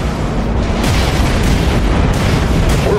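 Loud missile launches and explosions in a space combat video game, a dense, continuous roar of booming blasts and bursts with no talking.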